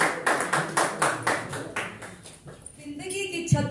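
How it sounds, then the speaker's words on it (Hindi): Scattered, rhythmic clapping from an audience at a Hindi poetry open mic, individual claps distinct and fairly close, fading out as music or a voice comes in near the end. "एक बार जोरदार तालियां सुषमा मलिक जी के लिए।"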